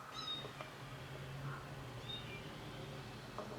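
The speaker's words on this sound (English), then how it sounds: "I heard a cat." A cat meows from inside a closet in an episode of the series The Rivers, with a couple of short, faint mews over quiet room noise.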